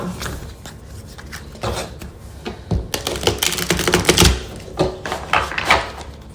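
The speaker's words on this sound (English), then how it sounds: "I have to reshuffle." Tarot cards being reshuffled by hand, a run of crisp irregular riffles, taps and slaps close by, with no talking.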